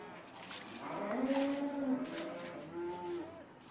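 Cows moo in a cattle shed, two or three drawn-out lowing calls close by, moderately loud over quiet background.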